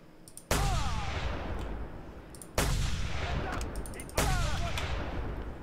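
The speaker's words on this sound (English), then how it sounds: "The sniper rifle is great." Three loud sniper rifle shots ring out in Just Cause 2, each a sharp crack with a long rolling echo, spaced about two seconds apart.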